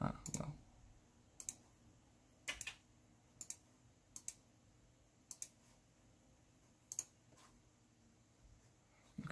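Computer mouse clicking at a desk while a game is launched on a PC with a GTX 750 card, with sparse single and double clicks spread out and fairly close, over quiet background hum.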